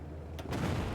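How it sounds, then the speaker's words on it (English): Nuclear strike in the strategy game Hearts of Iron IV: a low, rumbling boom swells midway through and holds as a dense, loud roar to the end, with no voices. "We're going to nuke here."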